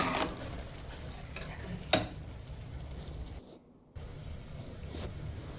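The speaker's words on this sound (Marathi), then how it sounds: "सगळं मिश्रण असं हलवून या" A spoon stirs a mixture of soaked moong and masoor dal in a pan, giving quiet scraping and soft sizzling with a sharper clink near the middle and a brief silent gap, faint and close.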